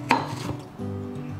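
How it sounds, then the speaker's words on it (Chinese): A single sharp knife cut through carrot strips on a cutting board, brief and close, followed by a steady low tonal hum. "红萝卜丝切一半"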